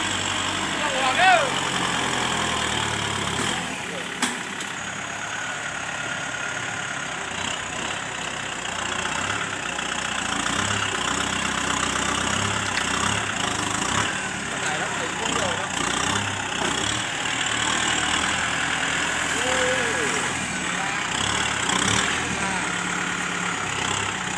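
Kubota tractor with a turbocharged engine idling, a steady low rumble running throughout, with someone talking over it and a few light knocks.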